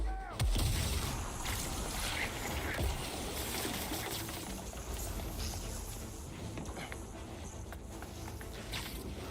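Gunfire erupts in a Spider-Man video game as loud, booming blasts and dense battle noise fill the scene from the start and continue without a break.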